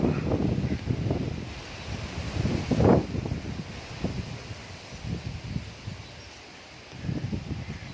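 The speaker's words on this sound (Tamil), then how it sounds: "நல்லா காற்று அடிக்குது உங்களுக்கு சரியாக கேட்குதா பாருங்கள்" Gusty wind buffets the microphone in uneven, rumbling waves in a vegetable garden, with one stronger gust partway through and no voices.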